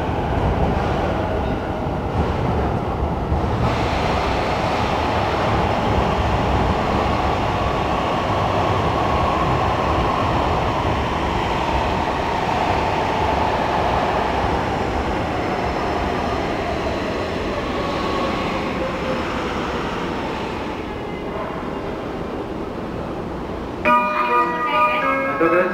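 Series 485 train departing Shinjuku station on its final day of service: steady rumble of rolling stock and rail noise fills the platform, with station chimes and announcements near the end.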